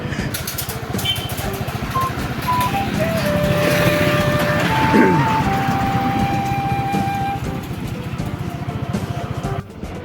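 A QJ Motor ATR 160 motorcycle rides along a road with a steady engine drone and wind rush throughout, rising slightly midway and dropping off near the end, with no voices.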